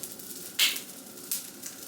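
Pancakes sizzle in a pan with a steady, soft frying hiss. Two sharper flares of sizzle rise briefly as a utensil works around the edges.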